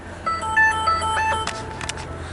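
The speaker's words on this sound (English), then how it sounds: "my phone was ringing" A mobile phone rings nearby with a few short electronic tones in a brief patterned burst, followed by faint clicks, with steady background hum and no talk.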